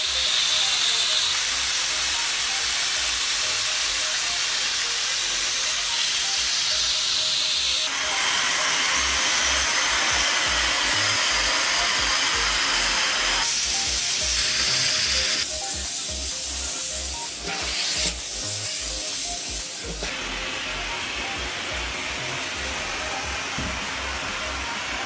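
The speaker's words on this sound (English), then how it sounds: "The advantage of an upholstery vacuum cleaner is that it allows you to clean the surface in one go" An upholstery vacuum cleaner cleaning a sofa makes a loud, hissing suction roar that runs continuously, its pitch and intensity shifting several times as the nozzle moves across the fabric.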